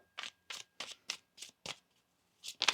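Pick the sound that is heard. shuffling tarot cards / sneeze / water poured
shuffling tarot cards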